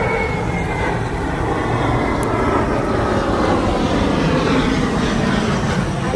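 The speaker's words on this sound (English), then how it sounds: "Oh my God, another goddamn plane." An airplane flies overhead outdoors near a duck-feeding spot, a loud steady engine roar that fills the whole stretch without letting up, with no talk over it.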